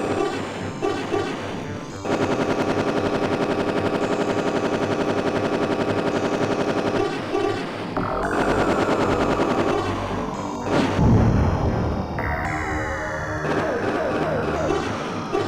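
Dense retro gunfire from the DOS space shooter Galactix, with rapid repeated shots and blasts layered over descending and rising electronic sweeps, loud and continuous throughout.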